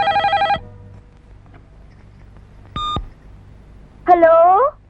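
A telephone rings in a household scene from a Telugu drama film, giving a short electronic ring burst at the start, a brief tone near the middle and a warbling ring at the end, with a quiet low hum between them.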